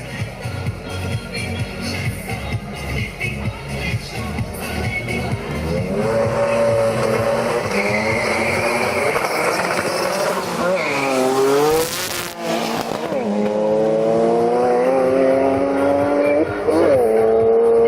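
An Opel Corsa race car with a 2.7-litre Audi engine of about 700 hp screams through repeated up-shifts, pitch climbing then dropping, loud and close, with a commentator talking over parts of it.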